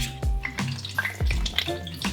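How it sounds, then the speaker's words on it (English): Blanched kale is scooped out of hot water with a small handled colander in a home kitchen, giving a few splashy, dripping scoops and clanks against the pot over roughly two seconds, with no talking. "take my little handled colander that I was using earlier and get some of that kale out and put it back in this pot over here"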